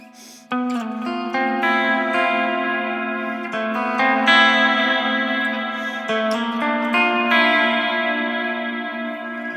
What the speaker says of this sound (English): This is the middle one, so kind of both pickups.